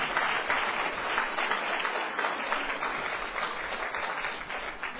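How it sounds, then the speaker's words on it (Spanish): Sustained applause from a crowd, steady and dense for the whole stretch with no talking over it. "Un aplauso a Yosef."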